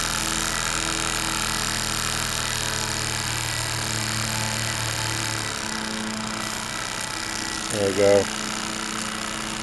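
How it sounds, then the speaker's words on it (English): A small toy steam engine fired by Esbit solid fuel runs in its boiler setup, a steady mechanical whir and hum that shifts pitch midway as it speeds up, with a brief spoken remark near the end. "So the engine's turning fast."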